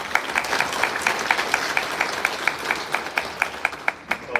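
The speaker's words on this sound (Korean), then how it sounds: "격려와 응원의 박수를 보내주시면 감사하겠습니다." A ceremony audience claps in encouragement at the launch of a citizens' association honoring Syngman Rhee, held in the National Assembly hall; steady, fairly sparse applause with individual claps distinct, moderately loud, lasting the full stretch.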